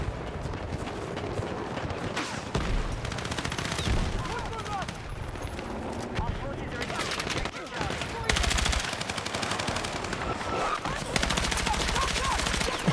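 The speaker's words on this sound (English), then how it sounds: "I'm just shooting my own guys." Video game gunfire in Battlefield 6: dense, rapid automatic bursts and shots overlap almost without pause across a loud, busy battle din.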